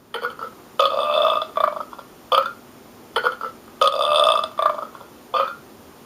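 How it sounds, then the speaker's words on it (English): Burp effects from a novelty sound effects machine, several loud, close electronic belches in a row of varying length, some drawn out and some short, with pauses between and no talking. "And burp."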